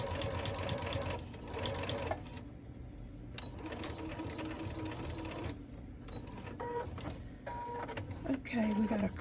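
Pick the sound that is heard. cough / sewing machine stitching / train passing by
sewing machine stitching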